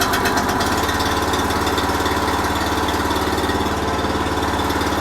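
The engine of a Phoenix 400 mini excavator runs steadily at a constant idle, a loud, close, even mechanical chug with a rapid pulsing rhythm and no talk over it.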